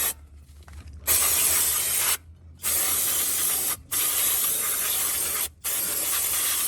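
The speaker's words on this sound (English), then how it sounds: "So I just use brake cleaner, parts cleaner." Brake cleaner sprays onto new drilled and slotted brake rotors for a Honda Civic in loud, close hissing bursts, with four long sprays separated by short pauses.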